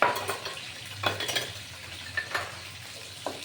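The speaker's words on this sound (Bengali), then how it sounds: "এইটা বাদাম আর নারকোল ভাজা হলে" Peanuts and grated coconut fry in a pan with a soft sizzle, broken by several scraping, clinking stirring strokes against the metal surface, heard up close with no talk.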